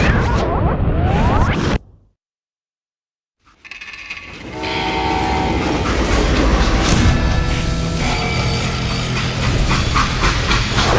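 A freight train in the Western video game Call of Juarez: Gunslinger rolls along the tracks with a loud steady rumble and clatter, cutting to silence for a moment before the rolling noise returns.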